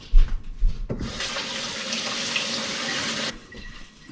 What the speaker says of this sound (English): we'll go ahead and wash our knives and put away.